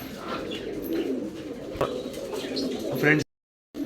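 Female pigeons coo softly and repeatedly at close range, with a voice talking over the birds before a sudden cut to silence.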